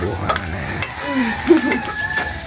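A simple sardine dish is sautéed in a home kitchen pan, giving a close sizzle broken by clattering stirring and scraping strokes with a few sharp metallic clinks, while faint voices murmur in the room.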